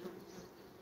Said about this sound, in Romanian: să vină albinuțele.